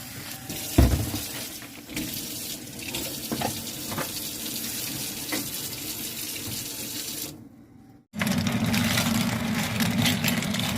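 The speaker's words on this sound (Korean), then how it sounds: "이제 물소리가 있다." Tap water runs steadily into a sink, with a few knocks and clatters, briefly cutting off before gushing back louder.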